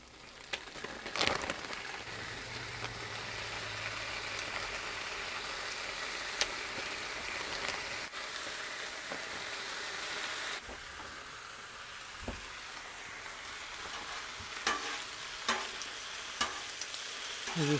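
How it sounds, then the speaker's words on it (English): Ham frying in a little oil on a Blackstone griddle, a constant close sizzle with occasional spatters and pops and one brief louder clatter midway, no talking. "we're gonna cook our ham just a little bit"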